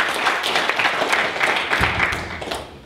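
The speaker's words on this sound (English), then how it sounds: "So you can just clap for everybody." A church congregation claps in thanks for the volunteers who came to cut, split and stack firewood, a steady, moderately loud wash of applause lasting a few seconds.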